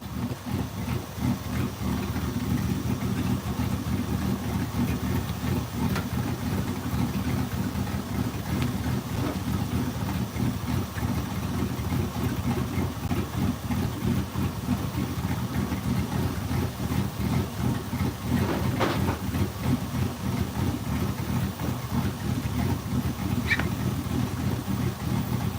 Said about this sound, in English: Sounds like it has a cam, it just runs like shit